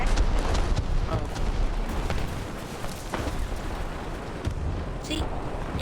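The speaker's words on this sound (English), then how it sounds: "The explosion is much more dynamic." A tank explodes in the video game War Thunder, a dense, loud rumbling blast with continuous booming and crackling under people talking.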